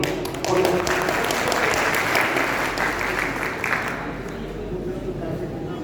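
An audience applauds at a tablet distribution ceremony in Chitrakoot Dham division, Banda: steady, dense clapping fills the room and fades slightly toward the end, with a voice speaking over it.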